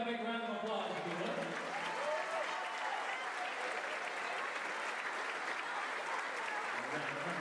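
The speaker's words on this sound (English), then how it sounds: "Let's give a big round of applause if you would" Crowd applause for the winners of the 2016 NTC tournament championship, Altamont vs Dieterich, with sustained clapping from a large audience in a gym, and an announcer's voice heard at the start.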